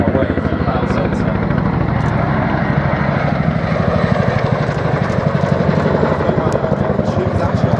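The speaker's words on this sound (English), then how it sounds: "you can hear that distinctive rotor noise getting louder and louder. This Waka Waka sound is synonymous with the Chinook" A Chinook tandem-rotor helicopter displays at the Duxford Air Festival, its loud rhythmic rotor thudding steady and close, with a commentator talking over it.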